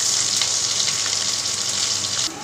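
Potatoes and capsicum frying in a pan, a loud, dense, steady sizzle that holds evenly and drops off abruptly near the end.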